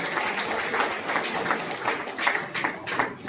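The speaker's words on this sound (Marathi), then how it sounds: "आपण जोरदार टाळ्या वाजवून त्यांचं अभिनंदन करू" A crowd applauds at a Dhammachakra Pravartan Day award and Buddha-statue distribution event, with dense, steady clapping that keeps going for several seconds at an even level.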